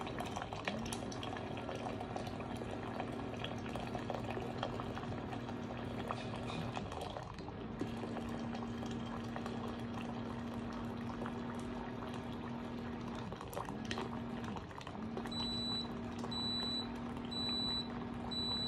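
A Tiger PVC-B220 electric water boiler bubbling and rumbling steadily with a recurring low hum, then a series of short electronic beeps near the end.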